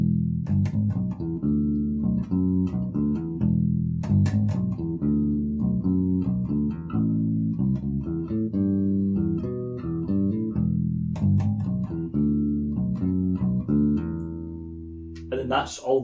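Bass guitar playing the verse part of a song, a steady, repeating line of close, punchy plucked notes over about sixteen seconds, played alone with no talking.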